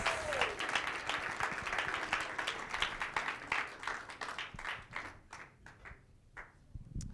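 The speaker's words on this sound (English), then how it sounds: "Come on, just give her a round of applause." An audience applauds warmly for a woman on stage, dense clapping from many hands that holds steady, then thins into scattered claps and fades out near the end.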